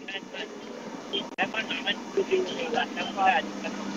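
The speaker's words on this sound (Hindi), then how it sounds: "कोई गाड़ी आ रही है" An engine drones steadily as a vehicle draws near in PUBG Mobile, under excited talking and occasional sharp clicks.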